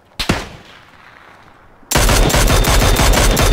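Gunfire in PUBG: a single sharp shot, then a loud, sustained burst of rapid automatic fire close by.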